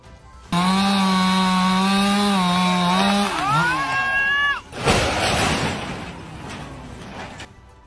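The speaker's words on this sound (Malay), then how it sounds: "Tebang pokok dengan gergaji, pokok pula tumbang ke arah yang salah." A chainsaw cuts down a tree and snarls at a loud, steady pitch for several seconds. It then bogs down and cuts out, and a sharp crash and crackle follow as the tree falls the wrong way.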